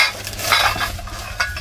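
Metal pots and pans clank and rattle as kitchenware is handled and set down close by, with a few sharper knocks among the clatter.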